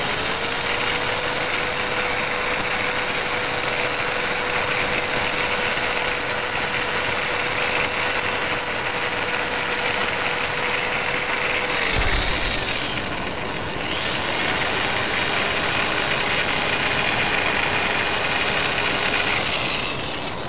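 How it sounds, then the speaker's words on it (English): An inertia sander used in woodturning drones at a steady high pitch, briefly spins down and stops, then revs back up and keeps running. "they call these inertia sanders"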